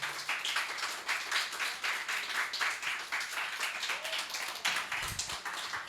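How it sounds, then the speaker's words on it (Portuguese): A church congregation claps during a Portuguese-language sermon, a fairly soft, steady patter of many hands with rhythmic pulses and a brief low thump near the end, no voices heard. "Pode aplaudir, aplauda,"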